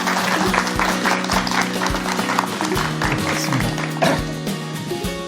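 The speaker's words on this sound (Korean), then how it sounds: "여러분, 큰 박수를 모시겠습니다." Audience applause at a lecture as the speaker is introduced, scattered claps over music with a steady beat and sustained tones, moderately loud throughout.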